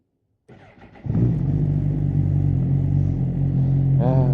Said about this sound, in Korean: 언제나 들어도 이 좋은 냉간 시동.